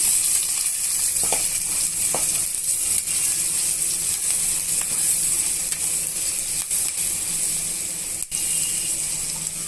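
Chopped onion and green chillies fry with turmeric in a pan, a dense, loud continuous sizzle with occasional stirring knocks throughout.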